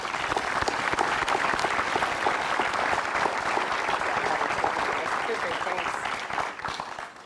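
An audience applauds steadily at a school convocation to welcome the speaker, a dense, sustained wash of clapping from a large crowd that holds evenly for several seconds before tapering slightly at the end.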